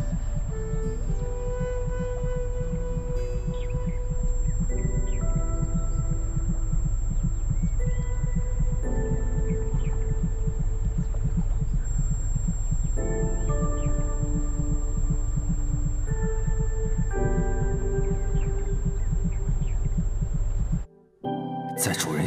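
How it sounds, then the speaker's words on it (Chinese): A steady rhythmic heartbeat thumps through a romantic period drama scene, looping continuously under a soft music bed and cutting out near the end. "凤鸣岛会发出心跳的声音。"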